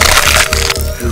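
A bag of miracle noodles is torn open up close, giving a loud burst of crinkling, crackling plastic that lasts about a second.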